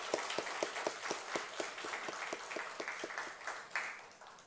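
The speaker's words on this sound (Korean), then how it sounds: "우리 다 함께 우리 축하의 박수를 하나님께 올려드리십시다" Applause from a church congregation during a ceremony installing an honorary deaconess, with many hands clapping in a steady, fairly soft patter that fills the room throughout.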